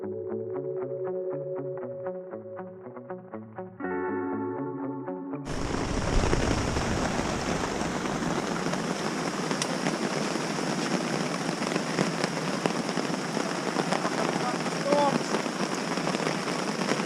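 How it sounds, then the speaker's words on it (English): Torrential rain pours during a thunderstorm in Fiordland, New Zealand, a dense, steady roar of rain on surfaces that bursts in after a few seconds of tonal music and continues loudly to the end. "we have got torrential rain and thunderstorms."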